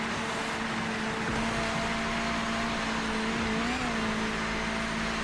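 Mazda MX-5 race car engine in the racing video game Project Motor Racing, a loud, steady droning engine tone that holds a fairly constant pitch with a slight wobble, with no voices.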